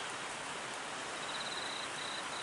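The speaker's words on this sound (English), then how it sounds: "It's been raining all day and it's still raining." Rain falling all day, a dense, steady, broadband hiss with no pauses, heard up close with a faint high whine in the background.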